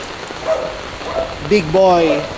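A dog barks a few times in short yips and woofs, with light rain patter in the background.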